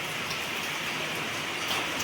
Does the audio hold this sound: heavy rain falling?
yes